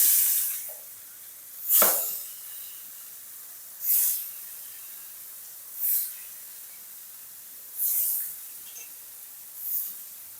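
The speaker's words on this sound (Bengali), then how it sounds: "মাছটা ভাজা হোক" Rui fish frying in hot oil in a kadai, giving bursts of hissing sizzle that swell and fade roughly every two seconds, about five surges over a faint steady background, with no voices.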